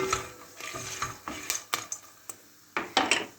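Corn kernels popping in a pot on the stove, a scatter of sharp little pops and taps against the metal, irregular and close, with quiet sizzling between them.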